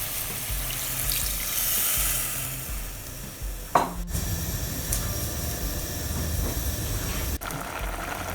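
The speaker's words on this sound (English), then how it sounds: "with that we're going to add some water." Water is poured into a pot of beetroot curry cooking with coconut milk, a steady close splashing hiss running through the whole stretch with one brief clatter partway along.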